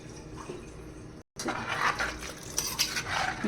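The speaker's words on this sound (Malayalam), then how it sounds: "കുറച്ചുകൂടെ വെള്ളം ഒഴിക്കണം. നമുക്ക് കുറച്ചുകൂടെ വെള്ളം ഒഴിച്ചിട്ട് കലക്കാം." Water is poured into fish curry paste for an Alappuzha-style fish curry and stirred, giving faint splashing and soft clinks of a spoon against a pot, briefly broken by a short silence, with no talk.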